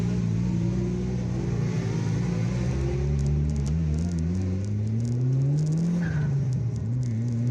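An Evo car engine revs in a continuous loud drone, its pitch climbing and dipping in long sweeps, with faint clicks and rustling on top and no voices.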